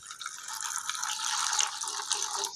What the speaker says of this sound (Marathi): हे गेलं आपलं गरम पाणी याच्यात.